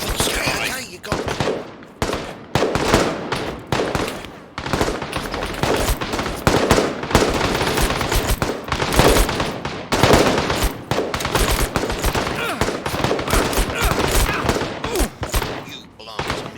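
Rapid bursts of automatic gunfire and shots crackle continuously during a firefight in a shooter video game, dense and loud throughout, with players' voices talking over the action.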